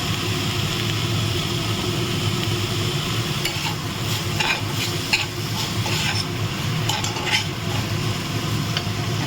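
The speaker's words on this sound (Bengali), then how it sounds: "ডুমুরটা দিয়ে আবার কষাবে" Figs are stirred and fried in a pan, giving a constant close sizzle with frequent scraping and clattering strokes of a spatula against the metal, no voices.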